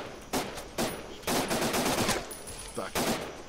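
Gunfire from Fallout New Vegas: about four loud bursts of automatic fire close up, the longest near the middle, separated by brief gaps, with no talking.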